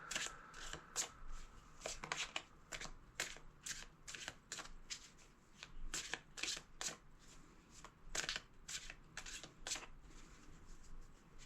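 Tarot cards riffled and shuffled repeatedly, a steady run of crisp flicking bursts close up, with no voices.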